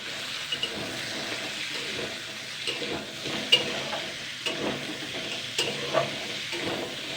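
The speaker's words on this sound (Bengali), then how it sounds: "এবার আমি এখানে একটা পেঁয়াজ কুচানো আর চারটে কাঁচা লঙ্কা নিয়ে নিয়েছি আর এক চামচ আদা পাটা আর কি তো এটাকে দিয়ে আমি একটু আবার একটু নেড়ে চেড়ে নেবো হালকা করে" Chopped onion, four green chillies and a spoon of ginger paste are stirred in a pan with fried catla fish head, producing faint, intermittent scraping and soft sizzle in a quiet kitchen.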